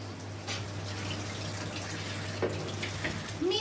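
Noodles being rinsed under a running tap while making Indonesian chicken noodles, a steady close water flow with faint splashes and a brief voice near the end.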